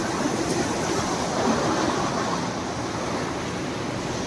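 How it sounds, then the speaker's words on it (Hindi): Canal water in the village of Agwanpur, Uttar Pradesh flows with a constant, full rushing roar, loud and close, with no talk over it. "यहाँ आवाज सी भी आ रही है पानी की सी"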